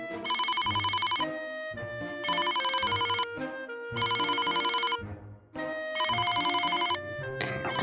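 A telephone rings in an animated drama, an electronic trilling tone repeating in regular bursts with short gaps between them, clear and prominent with no voices over it.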